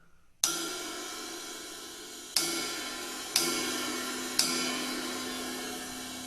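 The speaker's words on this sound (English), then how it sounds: "And a ride cymbal sounds like this on its own." A ride cymbal on a drum set rings alone, struck four times at uneven intervals. Each bright metallic hit is followed by a long shimmering decay, close and clear.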